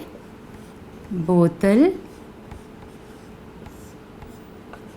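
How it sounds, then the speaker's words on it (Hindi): A word hand-written during a Hindi grammar lesson makes a soft, brief scratch, and someone speaks a single word over it. "तो मैं यहाँ पर बोतल लिखती हूँ पहले।"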